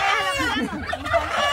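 A rooster crows loudly and close by, one long strained call filling the moment, with faint background voices.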